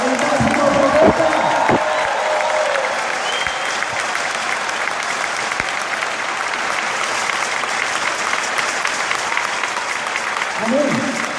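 Sustained applause from a church congregation fills the space steadily from start to finish, a dense wash of clapping hands with a few brief voices rising through it.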